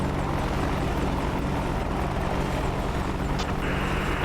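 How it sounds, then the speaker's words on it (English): Helicopters fly overhead near Nellis, giving a loud, constant broadband rotor and engine roar with a low rhythmic thump, steady throughout with no voices. "Helicopters spotted. Looks like they departed Nellis."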